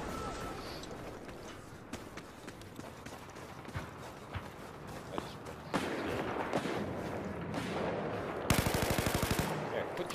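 Battlefield 4 video game gunfire with DMR shooting: repeated sharp shots crack out over a steady bed of in-game noise, with a dense rapid burst near the end, while players talk throughout.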